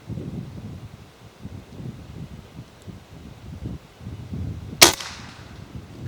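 A PCP air rifle fires a single sharp, cracking shot outdoors on a breezy target range, one brief loud report rising out of steady low wind rumble.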